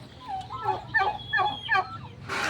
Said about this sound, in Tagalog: Tapos ito yung mga barako sa labas.